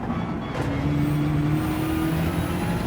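A GR3 race car accelerates hard out of a corner at Suzuka in Gran Turismo 7, its engine a loud, steady buzzing drone with rising pitch and tire rumble underneath.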